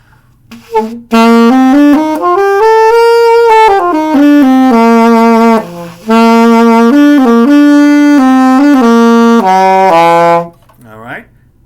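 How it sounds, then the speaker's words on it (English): A saxophone plays a loud, close melodic line of sustained and shifting notes, with brief pauses between phrases. "saxophone's still a good instrument"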